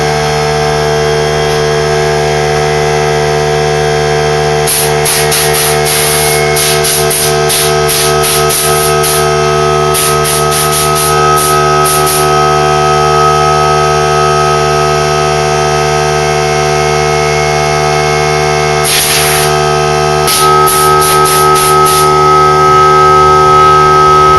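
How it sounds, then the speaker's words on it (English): Air compressor running while a wood entrance door is prepped for staining, a loud, steady droning hum throughout with bursts of high hissing air in between. "Got the compressor on."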